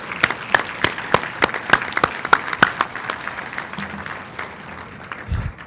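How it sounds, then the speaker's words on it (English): Sharp, loud claps ring out in a scattered burst from a small group of dinner guests at an awards event, fading toward the end with a low rumble. "Please give them all a round of applause."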